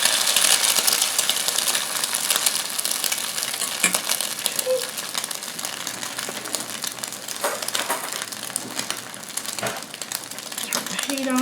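An egg frying in a pan gives a constant loud sizzle that carries on through the flip, with a few small clinks and a person talking over it.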